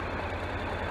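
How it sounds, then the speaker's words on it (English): A new dual-clutch automatic motorbike idles steadily, a low, even engine hum held close and constant, with no talking. "Love the sound of the engine, absolutely fantastic."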